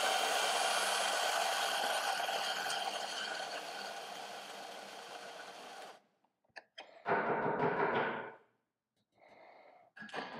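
A coffee grinder grinds beans for a Jura ONO espresso machine, a loud steady whir for about six seconds that cuts off, followed by a few short bursts and a brief final spurt.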